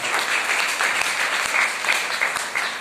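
Audience applause at a budget discussion event with women entrepreneurs, a steady dense clapping from a large crowd, loud and continuous throughout with no talking over it.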